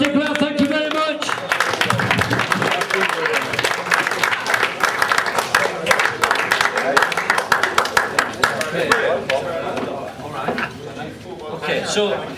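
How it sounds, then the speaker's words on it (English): An audience at a stage hypnotist show at Cheddar FC breaks into loud, dense applause, a sustained clatter of many hands with a voice talking over it before the clapping thins out. "Give yourselves a big round of applause"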